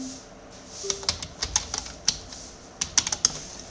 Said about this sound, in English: you are typing slowly